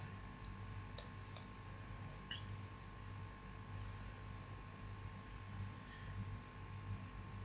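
A computer mouse clicks an apply button on a job vacancy page: a few faint, sparse clicks over a steady low electrical hum, with no talking.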